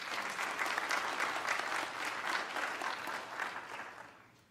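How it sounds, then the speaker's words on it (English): A church congregation claps together in a steady, dense round of applause that fills the space, holding evenly before tapering off at the end. "Oak City, please give our visitors a round of applause"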